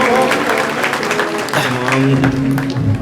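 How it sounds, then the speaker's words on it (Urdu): Crowd at a key distribution gathering in Shahdadkot, Sindh claps for Maulana Yusuf, steady dense applause lasting throughout, with a voice speaking over it partway through. "مولانا یوسف صاحب کے لیے بڑی تالیاں ہو جائیں."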